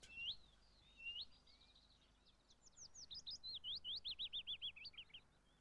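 Willow warbler call notes and song phrases in a garden setting: a few thin, rising whistles followed by a rapid series of sweet descending notes, fairly faint and alone.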